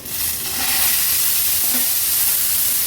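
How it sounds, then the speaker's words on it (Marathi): Chickpeas sizzle loudly and continuously in hot oil with tempering spices over a high flame. The hiss is dense and steady, with faint stirring under it, and there is no talk. "हाय फ्लेमवरच चणे व्यवस्थित आपल्याला मिक्स करून घ्यायचे।"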